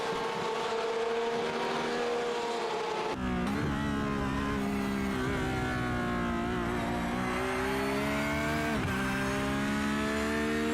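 A Porsche 924 race car in Martini livery drones steadily at high revs in the iRacing sim at Sonoma, with a sharp pitch drop near three seconds as it shifts or brakes, then climbs again and dips once more near the end.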